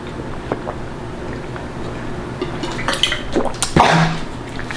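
Water sloshes and splashes from a travel canister in a few short, close bursts, a faint clink at first, then louder spills near the end over a low, steady background hum.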